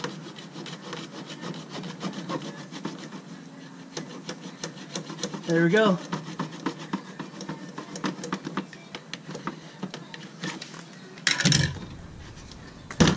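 A hacksaw cuts through the front license plate frame of a Tesla Model S P100D, giving steady close rasping strokes over about thirteen seconds, with a brief louder scrape near the end and a short spoken remark.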